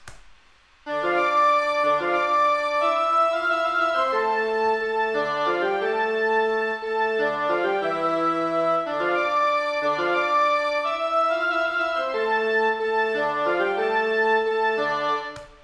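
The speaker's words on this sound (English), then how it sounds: "So now our woodwinds sound like this." Several woodwind instruments play together in sustained, overlapping melodic lines, a smooth ensemble passage with no talking.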